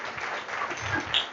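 An audience applauds at a World Pharmacy Day celebration for D Pharma students as a guest is garlanded on stage; steady, moderate clapping fills the short stretch without speech.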